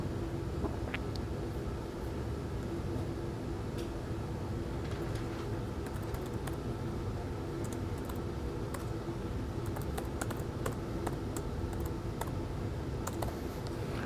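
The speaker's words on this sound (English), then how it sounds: "I'm typing it into Wolfram Alpha" Keys tapping on a computer keyboard in irregular clicks over a steady low background hum, with no one speaking.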